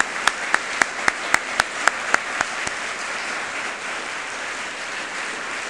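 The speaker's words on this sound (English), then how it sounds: "I'd just like to give you a round of applause" Short burst of applause honoring a colleague during a speech, a few sharp claps ringing out at first over a diffuse clapping crowd, then thinning and fading to a light patter.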